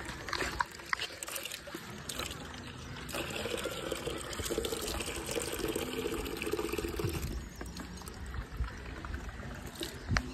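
Water pours steadily from a tap at the Dakshinkali temple, a continuous close splashing flow that runs throughout with small shifts in intensity.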